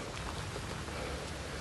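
Steady rain falling on a rainy day, a dense, even hiss of drops spread across the whole clip, with no voices or other sounds breaking through.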